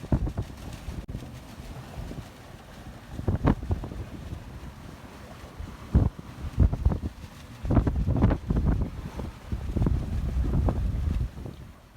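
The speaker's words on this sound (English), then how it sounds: "Right now it's a little rough. It's mostly from the wind, and we're cruising around at 6 knots" A sailboat cruises at about six knots offshore in rough, windy sea, with gusting wind buffeting the microphone and waves surging and slapping against the hull in irregular bursts.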